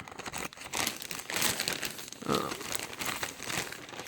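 Gallon Ziploc plastic bag stuffed with a homemade work med kit, crinkled and crumpled up close in continuous irregular rustles with a few sharper crackles.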